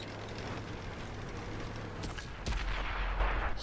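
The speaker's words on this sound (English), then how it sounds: "There's a light tank shooting me from the center." A T29 heavy tank in a game battle on the Port map, with heavy cannon blasts and sharp impacts around the two-second mark, then a louder rumbling burst of fire carrying over steady engine drone.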